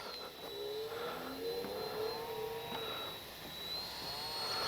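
E-flite 64mm Viper electric ducted-fan RC jet flying past, a high whining turbine-like hiss with rising and falling pitch sweeps as it passes, steady and moderately loud outdoors.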